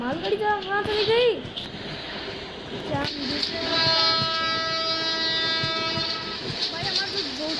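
Freight train in a 3D Indian railway video game, its horn sounding in a long sustained blast midway through, with rolling wagons and clattering wheels continuing underneath and a voice heard briefly near the start.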